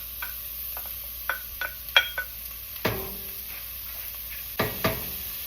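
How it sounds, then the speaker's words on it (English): Chopped sweet onion tipped into a cooking pot for a peanut stew, heard as a series of soft clinks and scrapes with a brief sizzle and stir, close and fairly quiet. "Okay, in go the onions. 1 full sweet onion,"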